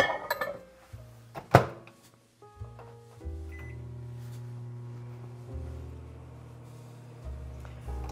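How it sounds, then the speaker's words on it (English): A few clinks and thuds of a dish being set down, then a steady low hum of a microwave oven running, droning on without talk. "now we're going to microwave this until it all melts"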